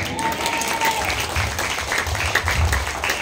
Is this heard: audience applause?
yes